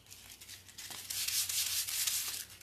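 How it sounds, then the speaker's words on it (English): Quick back-and-forth hand sanding of a factory-lacquered furniture piece, such as a bed, before painting: a soft, steady rasping scrub that swells louder midway, with no talking. "it's pretty fast because you're just kind of quickly sanding"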